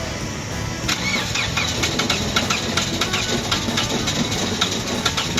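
A hydro-locked Toyota Yaris engine cranks in an attempt to start, with a steady, rapid, mechanical chugging rhythm of the starter turning over, fairly close and persistent throughout, and no voices.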